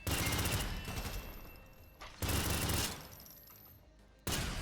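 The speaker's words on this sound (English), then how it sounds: "The MP70 Maro. It looks like a little submachine gun type deal." The MP70 Maro submachine gun in Synthetik 2 fires three rapid bursts, each a dense rattling volley that trails off, heard loud and close with no voices.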